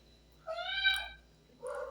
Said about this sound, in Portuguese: O gatinho está aqui miando.